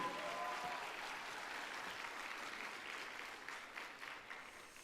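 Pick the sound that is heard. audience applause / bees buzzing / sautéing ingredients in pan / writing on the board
audience applause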